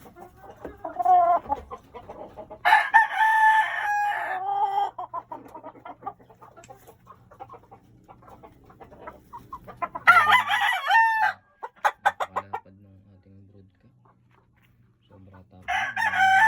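Several fighting cocks crow loudly in repeated bursts, close by, with clucking and someone talking between the calls.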